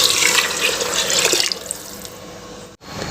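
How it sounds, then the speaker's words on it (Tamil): Water pours steadily into a cooking pot for about a second and a half, a loud splashing rush that then thins to a quieter trickle. "இப்போ அந்த தண்ணியை உள்ளே சேர்த்துக்கலாம்."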